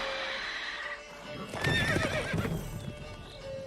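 A horse's neigh and clip-clopping hooves from Roach in The Witcher 3: Wild Hunt, with a loud whinny bursting up midway over steady game ambience and faint hoofbeats.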